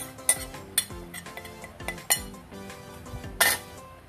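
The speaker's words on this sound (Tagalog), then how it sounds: "imimix na natin yung itlog at mga ingredients na ating ginis kanina" Eggs and sautéed ingredients are mixed in a bowl with a utensil, giving a series of sharp clinks and taps against the bowl with scraping in between, close and fairly quiet.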